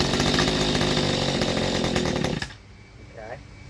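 A Mantis tiller's small two-stroke engine runs loud and buzzing at steady revs for about two and a half seconds, then cuts off abruptly, leaving near silence with a faint voice.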